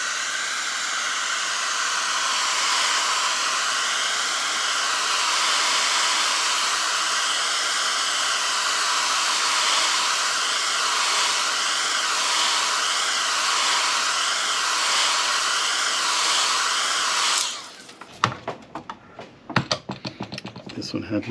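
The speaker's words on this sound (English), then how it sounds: "I'll show you another way to remove this, just using a heat gun" A heat gun blows a steady, loud airflow while warming a liquid-damaged M1 MacBook Air Retina display for removal, holding constant for about seventeen seconds before cutting off into scattered handling clicks.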